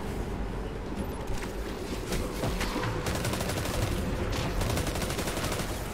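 Dense gunfire in the game Destiny 2, including trace rifle fire: continuous rapid automatic shots under a constant loud din, without speech.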